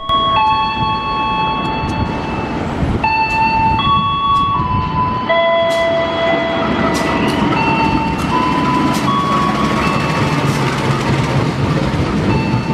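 A train rolls through Klari station on the tracks beside lines 6 and 7, a steady rumble with rail clatter, several long tonal beeps or horn notes, and high squeals over the top. No voices can be heard.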